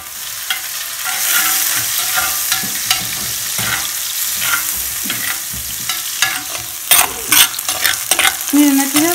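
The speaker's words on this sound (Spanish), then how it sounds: "Está nuestra cazuela con lo de las cebollas acitronándose." Onions sautéing in a cooking pot for a shredded-meat picadillo, with a steady broadband sizzle throughout, punctuated by frequent scraping and clattering of a utensil stirring, and a few sharper knocks near the end.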